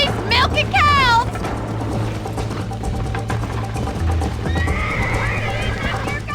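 Horse in the Red Dead Redemption video game whinnies loudly near the start, then hooves clip-clop in a steady galloping rhythm over a low droning game soundtrack.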